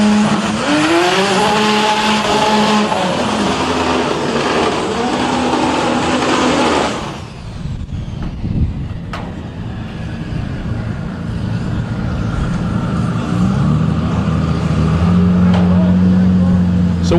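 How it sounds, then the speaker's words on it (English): Drag race cars at the DCT World Cup tear down the strip in a loud, close roar of rising engine notes that cuts off abruptly, followed by more distant engine and crowd noise, with an announcer talking over it. "Damon will go to the number 3 spot as two pairs back-to-back deliver low 7-second passes here at DCT World Cup."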